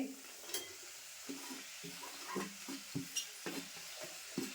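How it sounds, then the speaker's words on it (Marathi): Okra tossed into a pan of softened onion and tomato sizzles softly, with quiet stirring scrapes and light utensil taps in a recurring rhythm, close and fairly faint. "आता कांदा टोमॅटो मी परतून घेतला आहे. आता मी भेंडी टाकते."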